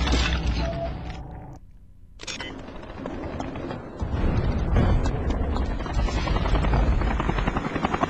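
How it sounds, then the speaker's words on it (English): Loud, steady helicopter rotor chop and engine roar in the video game SpyHunter: Nowhere to Run, with dense game background noise, a brief dip in sound partway through before the rumble swells again. "helicopter."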